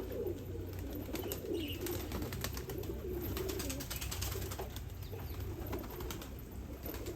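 Pigeons coo softly and repeatedly as they bathe, with faint flutters and chirps over a steady background hum, fairly quiet throughout with no talking.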